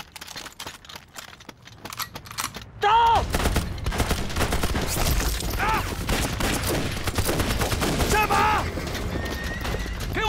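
Gunfire in a battle between bandits and ambushing Liberation Army troops in mountain terrain, with dense volleys and a steady, loud roar of shots and commotion from about three seconds on, mixed with shouting voices.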